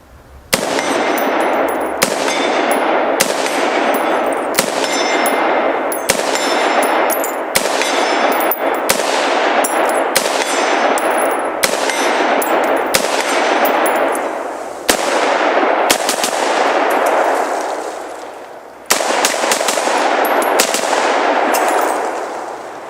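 An AR-15 rifle fires a rapid series of loud shots at steel plates, each crack followed by a bright ringing clang of the struck steel, repeating steadily throughout with no talking.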